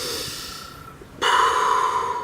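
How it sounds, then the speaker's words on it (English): Rapid, forceful breaths drawn in through both nose and mouth during a Wim Hof Method breathing exercise, close and airy, softer at first and then a louder, fuller rush of breath. "I'm actually using my breath through my mouth as well as I'm breathing in through my nose"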